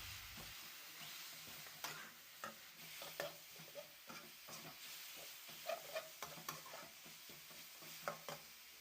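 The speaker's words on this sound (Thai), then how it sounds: "เครื่องแกงหอมได้ที่ดีแล้วใส่หมูสามชั้น ผัดให้สุกสักประมาณหนึ่งก่อนนะคะ" Pork belly stir-fried with curry paste in a pan, with a steady soft sizzle and scattered scraping stir strokes and clinks of a utensil throughout, fairly quiet and with no talking.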